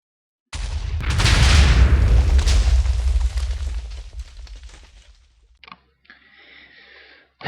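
A Minecraft explosion booms loud and close, a long roaring blast that rumbles and slowly fades, followed by a few fainter crackling pops.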